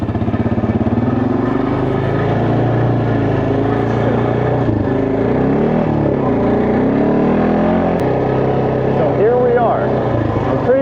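Vehicle wheels spinning while reversing on a rough track near an Alaskan glacier spring, then shifted into four-wheel drive: a loud, continuous engine drone that strains and shifts pitch, with a voice talking over it.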